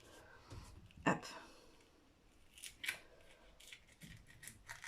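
A few sharp snips and rustles of scissors cutting adhesive tape during card making, spaced irregularly, with a faint voice in the background.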